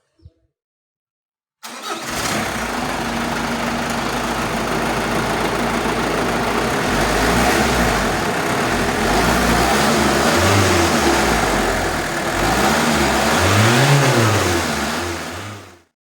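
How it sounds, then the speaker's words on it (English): A Mitsubishi Galant's engine cranks and catches after a brief silence, then idles and revs up several times in rising and falling surges, close and loud. "So now I'll do a startup and show you guys the sound of the engine."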